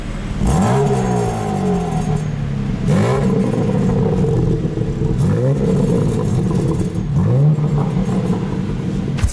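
Stock BMW M4 G82 accelerating hard from 100 to 200 km/h, loud close engine roar rising in pitch through several gear changes, each shift marked by a brief dip before the climb resumes, with no voices.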